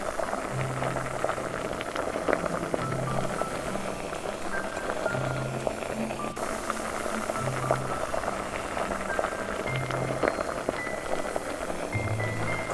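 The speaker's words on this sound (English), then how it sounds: "So bring 6 cups of water to boil." A steady bubbling, rushing hiss of water at a rolling boil, continuous and close, with a faint low hum underneath.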